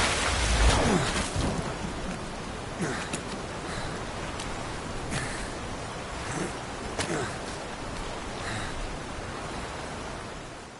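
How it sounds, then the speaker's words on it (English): Rain falls in the video game Metal Gear Solid V, a steady broadband hiss of heavy downpour with occasional rumbles and crackles of thunder, and a voice speaks faintly beneath it. "And it's raining."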